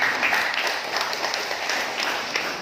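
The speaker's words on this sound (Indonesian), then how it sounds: "Tepuk tangan dulu kepada mereka." A crowd applauds steadily, a dense wash of many hands clapping at moderate volume with no voices on top.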